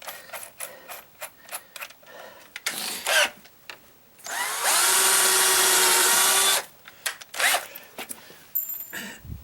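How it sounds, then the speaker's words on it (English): A cordless power drill pre-drills screw holes into a wooden gate, with a loud, sustained whine of about two seconds at the center, surrounded by clicks, handling noises and the shorter starts and stops of the drill. "My drill bit back in."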